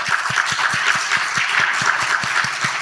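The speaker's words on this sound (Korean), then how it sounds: "하나님께 영광의 박수 함께 올려드립니다" A church congregation at a Korean Presbyterian Sunday service applauding together, steady rhythmic clapping of many hands kept up evenly throughout, fairly close and without voices.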